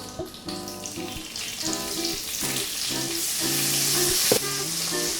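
Onions hit a very hot pan for beef stroganoff, crackling in a steady close sizzle under clinks and scrapes of stirring, with a short tonal rattle near the end and no one talking.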